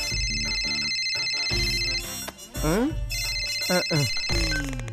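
A telephone rings with steady electronic tones, repeating over music and voices that talk and react on top of it.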